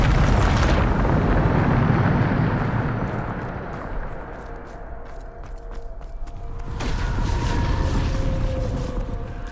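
A Bombarda spell blast in the Hogwarts Legacy video game, a loud booming explosion with a sustained rumbling roar that dips and then swells again, crackling debris over it.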